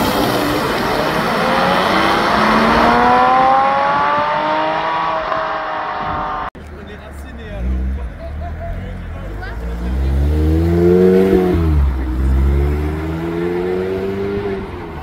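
Sports cars accelerating hard at a supercar meeting in the Grand Est region, including a BMW M3, a Porsche GT4 and an Aston Martin V12 Vantage Roadster: loud, rising engine revs from close by, one car after another, with crowd voices mixed in.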